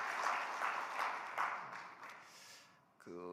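A church congregation applauds God during a New Year's Eve service, soft scattered clapping that sits under a speaking voice, with a short musical tone entering at the end.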